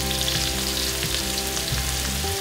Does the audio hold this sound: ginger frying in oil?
yes